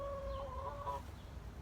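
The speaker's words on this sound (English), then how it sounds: "my chickens get all disturbed" Disturbed chickens cluck and squawk nearby, a few sharp tonal calls stacked early on before trailing off into quieter scratchy murmuring, fairly faint overall.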